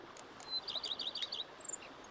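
Birds chirping in a peaceful outdoor scene in The Witcher 3 video game, a quick series of faint high twittering notes over a soft ambient hiss, with one brief higher chirp after them.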